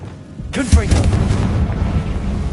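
The Confringo blasting spell goes off in Hogwarts Legacy on PS5 as a single booming explosion with a sharp attack, followed by a rumbling, crackling tail that fades slowly.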